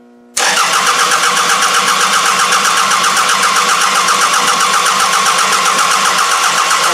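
A Toyota Camry with a hot-wired distributor cranks continuously on its starter, a loud close rhythmic churning that begins suddenly and holds steady throughout.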